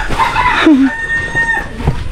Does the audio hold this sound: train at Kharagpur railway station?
no